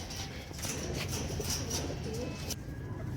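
Pigeons coo steadily in a loft as small birds are handled for vaccination, their soft repeated calls sitting in a dense, constant background wash with no clear talk.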